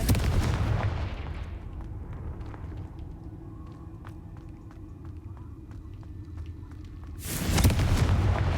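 Confringo blast spells exploding in Hogwarts Legacy: a loud, heavy boom at the start fades into a low, rumbling game ambience, then a second powerful blast bursts in near the end. No one speaks.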